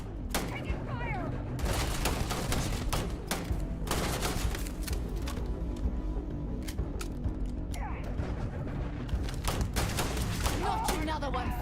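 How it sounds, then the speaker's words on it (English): Dense gunfire from the video game Starfield, with rapid bursts and scattered single shots cracking continuously over mechanical clanks and whirs throughout, loud and busy with no pauses. "Taking fire!"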